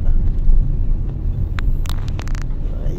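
Loud, steady road traffic rumbles near Ikulan Terminal in Davao City, engines droning close by with a few sharp higher whines and tones rising over the din midway; no voices.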